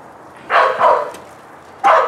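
A neighbour's dog barks nearby: two loud barks in quick succession, a pause, then another bark, with no talk.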